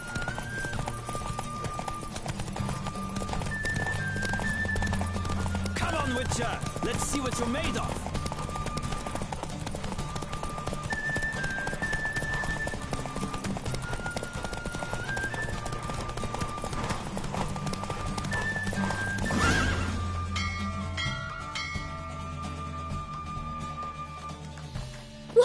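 Horse hooves clip-clop steadily through a horse race in The Witcher video game, with occasional neighing, over continuous game music, while a character's voice calls out.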